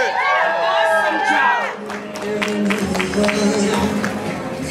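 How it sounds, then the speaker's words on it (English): A fashion show crowd at a Macy's holiday event applauds and cheers loudly, the steady roar of clapping mixed with shouts and a voice ringing over it. "Give them all a round of applause, please."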